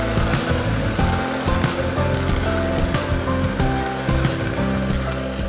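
Juicer machine blending whole red cabbage, a loud, steady whirring roar with churning, rattling texture held throughout, close, with no talking.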